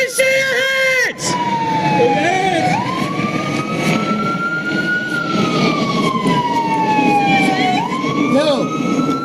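A police emergency vehicle siren wails loudly nearby, sweeping up and down in long slow cycles over a running engine, with a brief switch to a faster yelp at the start.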